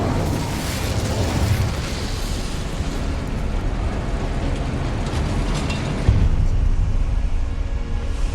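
The Incendio fire spell is cast in Hogwarts Legacy, producing a loud, continuous roaring blast of flame that rushes on for several seconds with a heavier surge near the end.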